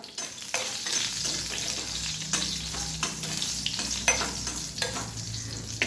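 Brinjals sauté in a pan for a traditional village-style khara vanga dish, giving a steady close sizzle broken by sharp scrapes and stirring knocks throughout, with no talking.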